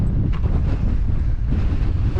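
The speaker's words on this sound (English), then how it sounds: "There's so much wind you probably can't hear me." Strong wind roars and buffets the microphone at a coastal fortress on Portugal's south coast, a loud, steady low rumble with gusty swells throughout and no voice audible.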